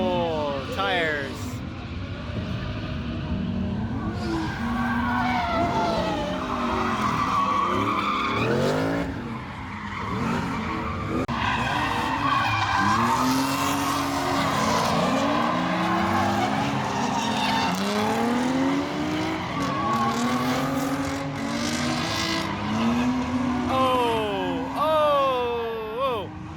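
Drift cars' tires squeal in long, wavering, overlapping screeches over roaring engines at a Summer Jam 2020 drift event at PARC Drift, loud and continuous for nearly half a minute.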